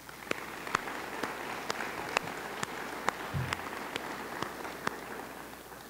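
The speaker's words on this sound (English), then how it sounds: "Let's all give Jamie Ridner of the center staff a round of applause" Sparse applause in a hall at an education association luncheon, individual sharp claps spaced out over a soft patter of clapping, with a low thump partway through.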